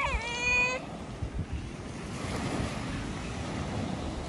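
Black Sea surf washing onto the beach at Anapa, a steady broadband wash of waves with gusty wind, preceded by a brief high tonal squeal at the start.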